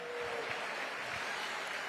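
Brief, steady clapping from a debate audience in a San Francisco hall, a dense wash of applause with no voices over it.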